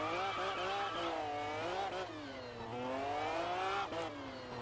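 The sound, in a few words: Pagani Zonda car driving in video game Test Drive Unlimited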